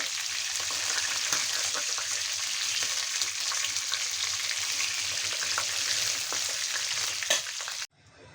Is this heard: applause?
no